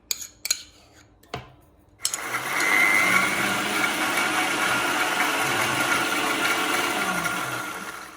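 A blender grinding a spice paste with chili powder starts after a few clinks and taps, then runs as a loud, steady whirring roar until the end.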